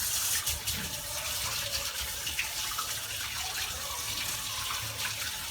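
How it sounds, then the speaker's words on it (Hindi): Hands washed under a running tap, a steady close rush of water splashing into a sink throughout. "अभी पहले मैं हाथ धो लेता हूँ"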